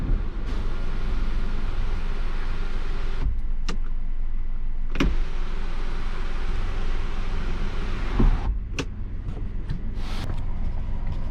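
The electric sunroof on a new Hyundai i20 1.0 turbo petrol hums steadily as its motor runs inside the cabin, with brief clicks and stops marking the start and end of travel.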